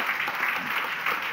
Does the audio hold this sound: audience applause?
yes